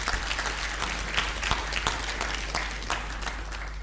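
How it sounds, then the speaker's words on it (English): Steady audience clapping fills a conference hall at an annual learning event's closing plenary, a continuous wash of many hands with scattered sharper claps, loud and close and without talk. "Let's give them a round of applause in absentia."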